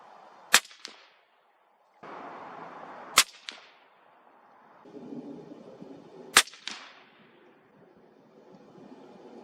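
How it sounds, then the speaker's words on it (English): Three sharp cracks from a suppressed .308 Winchester rifle ring out a few seconds apart, each followed by a quick whining ricochet tail against a quiet outdoor background. "You can definitely hear the crazy ricochet off those."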